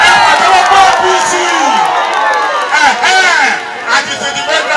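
A campaign rally crowd in Ilorin, Kwara State, cheering loudly with whoops, shouts and chatter, a dense roar of many voices close by, swelling and falling in waves.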